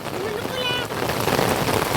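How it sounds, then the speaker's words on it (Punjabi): Heavy rain pours steadily across farm fields in a Punjab village, a dense, close hiss that fills the whole moment, with faint voices underneath. "ਗਾਈਜ਼ ਹੁਣ ਮੀਂਹ ਬਿਲਕੁਲ ਫੁੱਲ ਤੇਜ਼ ਹੋ ਗਿਆ"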